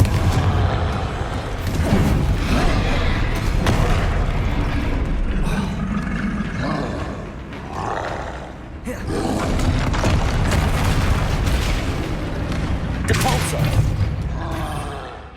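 Booming fire-spell explosions and crashing impacts in the Hogwarts Legacy video game, with a troll nearby, several loud blasts over a roaring, busy combat soundscape.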